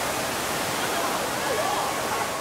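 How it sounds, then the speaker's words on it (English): Indoor waterfall in the Cloud Forest dome at Gardens by the Bay, Singapore: a steady, loud rushing hiss of falling water that runs unbroken throughout, with faint voices blended into the roar. "this indoor waterfall is pretty spectacular"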